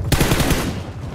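Rapid bursts of shotgun fire in PUBG Mobile, several loud sharp blasts in quick succession that fade into a decaying rattle.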